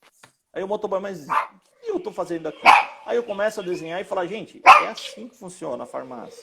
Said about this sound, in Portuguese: só fechar a janela ali que tem um cachorro latindo aqui